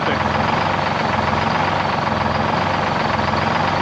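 The V12 engine of a 1973 Peterbilt 352 cabover truck running steadily, a loud, dense, unbroken rumble close by, with no talk.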